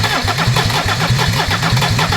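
A Mercedes OM diesel engine cranks and fires on a test bench, with rhythmic, evenly spaced combustion pulses at steady loudness close by, sounding like a rough engine starting and running.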